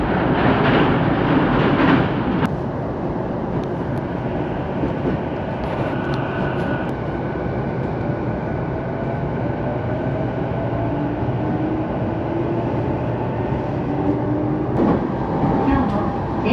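JR East Itsukaichi Line train bound for Musashi-Itsukaichi, running with a steady, loud rumble of wheels on rails for the whole stretch, with brief sharp clanks near the start and end.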